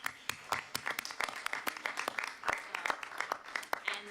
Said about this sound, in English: So can we please clap for that?